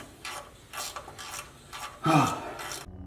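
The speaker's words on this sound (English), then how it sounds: "Now I'm going to be taking off these sector shaft bolts." Short bursts of ratchet clicking and metallic rasping from a hand ratchet working sector shaft bolts on a Jeep Gladiator steering box, several quick strokes close by, with a louder grinding stroke near the end.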